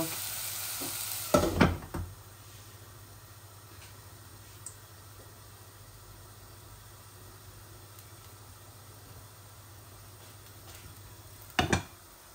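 Dried shol fish shutki frying in oil with a low, steady sizzle, broken by two loud bursts of spatula stirring and scraping, one near the start and one near the end.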